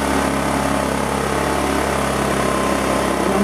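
A Harbor Freight Predator inverter generator runs steadily up close with a loud, even small-engine drone and no change in speed, its fuel pump drawing fuel from an external can through a three-way fuel valve.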